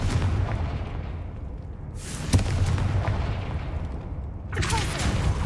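Confringo blasting spell explosions in the Hogwarts Legacy game: a sharp bang followed by a rumbling boom, then a second broad blast, loud and close over a low background hum.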